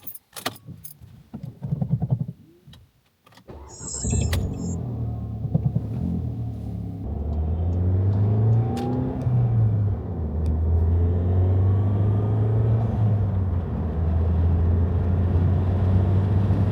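A Volkswagen MK7 GTI with new brakes, rotors and shifter bushings: a door slam and keys jangling, then a steady low engine rumble with gear changes and light revving as the car drives through the city, cabin close and continuous.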